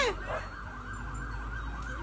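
Police car siren wailing steadily over rumbling traffic noise during a car chase after a stolen Mitsubishi Pajero, loud and continuous with rising-falling sweeps, no talk heard.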